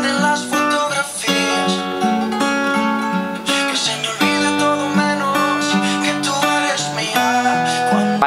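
Acoustic guitar plays the pre-chorus bridge of a song as arpeggiated chords, ringing clearly and up close in a steady flowing rhythm with no voice over it.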